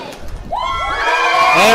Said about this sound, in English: you can hear the crowd going crazy right now